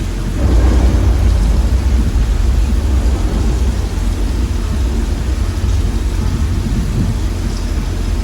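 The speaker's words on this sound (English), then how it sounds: "This rain is the result of some sprinklers strategically placed at high points." Steady, heavy rain-like patter of artificial rain from sprinklers placed at high points, falling continuously with a deep low rumble underneath, loud and close, no voices.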